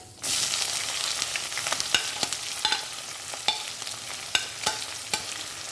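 Chopped onions fry with spices in hot oil for Bengali mutton kosha, a steady close sizzle broken by repeated sharp clacks and scrapes of a spatula stirring the pan.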